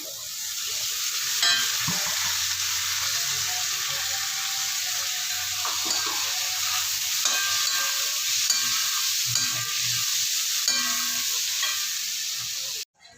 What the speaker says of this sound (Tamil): கொஞ்சம் நல்லா வதங்கட்டும் கண்ணாடி மாதிரி.